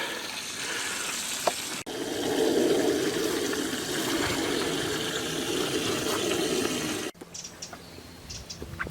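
Water pours into a lined ornamental fish pond, a steady hissing splash that runs for several seconds, then gives way to a quieter outdoor scene with birds chirping.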